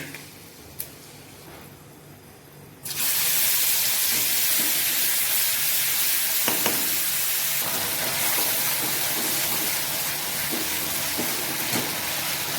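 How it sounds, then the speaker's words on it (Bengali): Raw fish added to a spice paste tempered with fenugreek, starting from a quiet kitchen and then bursting into a loud, continuous hiss and sizzle with crackles. "মশলার মতো মাছটা দিয়ে দিচ্ছি সবগুলো মাছ দিয়ে দিয়েছি মশলাটার মধ্যে"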